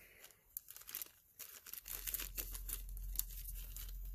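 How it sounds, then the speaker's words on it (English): A plastic bag holding a fiber optic quick connector is torn open close by, a short crinkly ripping and crumpling burst that grows louder midway, with no talking over it. "Going to rip open the bag here."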